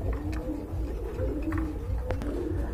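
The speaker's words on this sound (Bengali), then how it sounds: "খুবই সুন্দর আরেক জোড়া বিউটি হোমা দেখতে পাচ্ছেন।" Beauty Homer pigeons coo in a steady, low murmuring series of soft rolling calls, close by and fairly loud, with faint background bustle at a pigeon seller's.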